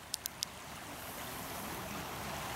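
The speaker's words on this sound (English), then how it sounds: "And there is the creek. Wow," Frog Creek, partly iced over, rushing strongly past its bank, a steady broadband wash of water heard up close after a few quick clicks at the start, with no voices.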